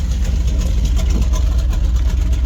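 A 1969 Chrysler 300 V8 idling with a lumpy, uneven potato-like rhythm, a steady loud low rumble running without pause.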